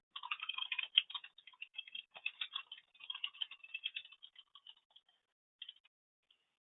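Clicking keystrokes on a computer keyboard, quick bursts of light, close, quiet taps with short pauses, tapering off toward the end in an otherwise silent room.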